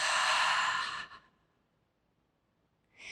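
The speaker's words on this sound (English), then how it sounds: "take a deep inhale through the nose and a slow exhale through the mouth" A deep breath released as a slow, audible exhale through the mouth during a gentle yoga practice, a close, soft breathy sigh lasting about a second before near silence, with a faint breath starting again at the end.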